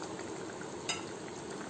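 Vegetables with raw mango cook in a pan for Muslim-style mutton dhalcha, giving a faint, steady close sizzle and bubbling with one brief clink.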